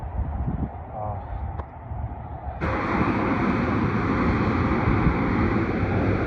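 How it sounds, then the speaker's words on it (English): Wind roars outdoors, buffeting the microphone; a low muffled rumble suddenly swells into a loud, steady broadband gust that persists. "it's getting windy outside again, guys."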